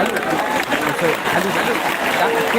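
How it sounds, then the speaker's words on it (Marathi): A large crowd clapping continuously at an outdoor rally, a dense, steady roar of hands that holds without break, with a voice shouting over it. "चला तीस सेकंद सलग टाळ्या वाजत राहायचं तीस सेकंद जोरदार"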